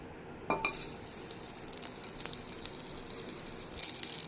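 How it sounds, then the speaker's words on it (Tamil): Butter melting and sizzling in a kadai, a soft steady frying hiss starting abruptly after a brief quiet moment and continuing evenly, brightening toward the end, with no one talking. "இப்போது ஒரு கடாயில் இதில் பட்டர் சேர்த்துக்கலாம்."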